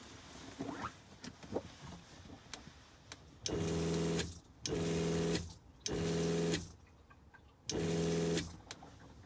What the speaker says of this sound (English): I'm just gonna run the pump so you can see how it should work.